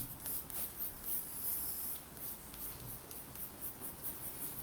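A pencil sketches a field mouse on paper, producing soft, close scratchy strokes in quick rhythmic bursts, quiet and continuous with no voices.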